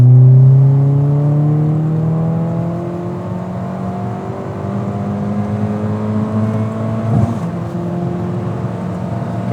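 A Ford Fiesta ST with a 1.6 engine accelerates hard from inside the cabin, engine tone climbing steadily through a gear, a quick shift near the end, then pulling again, loud and close.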